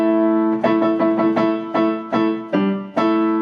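An electric guitar power chord strummed repeatedly in an uneven rhythm, each strike ringing briefly before the next, loud and clear.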